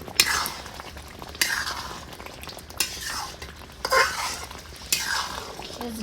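Ground fenugreek is stirred into chicken gravy in a pan, with five rhythmic scraping strokes of a utensil against the pan over a soft sizzle, close up, no talk.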